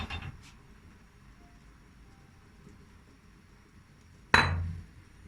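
A spoon clinks once, sharp and close, against a pot on the stove while olive oil is added for mushroom soup; a softer tap comes first, then a long quiet stretch.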